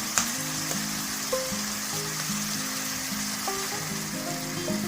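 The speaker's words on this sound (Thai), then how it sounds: "เราจะคั่วให้เข้ากันเลยครับ คั่วไปเรื่อยนะครับผมให้สุกครับ" Egg sizzling in a wok while being stir-fried with minced pork for chili-paste pork fried rice, a continuous moderate frying crackle with faint tonal hum underneath and a few light knocks.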